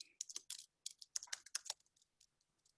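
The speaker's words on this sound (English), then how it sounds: "I am able to even come in and type," Someone typing on a computer keyboard in an online teaching workspace: a close, brisk burst of crisp key clicks that slows and thins into a few scattered taps.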